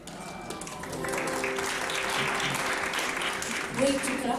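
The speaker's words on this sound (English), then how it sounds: "Wait to clap your hands after the song." Concert audience applause at an opera house, a dense wash of clapping hands rising and holding steady over a few seconds, with band sounds and a voice faintly underneath.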